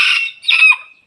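A small rooster gives a short, loud, close crow in two quick bursts, heard clearly on its own.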